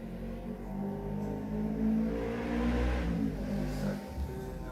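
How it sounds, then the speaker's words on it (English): A motorcycle engine drones in the distance, its revving rising and falling steadily for several seconds. "there is the sounds of motorcycle in the distance"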